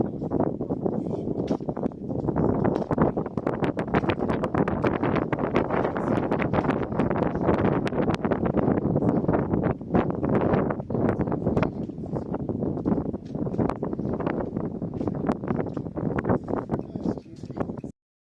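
Wind gusts batter the microphone high on the mountain at Schilthorn, Switzerland, a dense continuous rumble with sharp buffeting bursts lasting the whole time.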